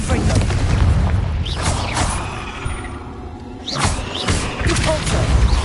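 Confringo fire spell blasts in Hogwarts Legacy, a string of loud booming explosions with crackling bursts over continuous game sound, close and heavy throughout.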